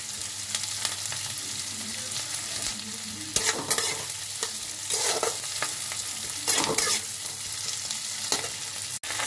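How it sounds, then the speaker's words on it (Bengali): Chopped garlic, ginger and onion fry in hot oil in a wok, giving a loud continuous sizzle with frequent spatula scrapes and stirring bursts, close up and without any talking. "প্রথমে এর মধ্যে রসুন আদা কুচিটা দিয়ে পেঁয়াজটা দিয়ে দেবো। তো এই যে এবার এটাকে লাল লাল করে ভাজবো।"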